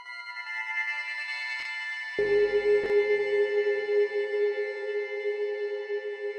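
A high, metallic, eerie synth tone in a psytrance track, ringing like a blade with sustained shimmering overtones, joined partway through by a lower droning layer and a couple of sharp transient hits, no voices.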